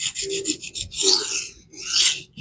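A Shan Zu Peafowl EDC knife is drawn across a budget $15 diamond sharpening plate, producing loud, close, gritty rasping strokes in a quick rhythmic series with brief gaps and no talk.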